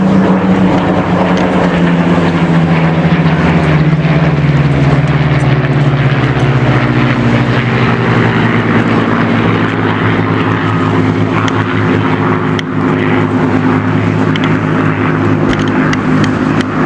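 A Spitfire's piston engine and propeller roar loudly overhead at the Eastbourne airshow, a sustained close pass whose pitch slides downward as the aircraft goes by.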